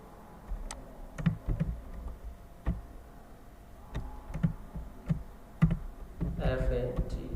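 Scattered keystrokes on a computer keyboard while a message is typed into a graphic design program, irregular close clicks with brief pauses and a short burst of faster typing near the end.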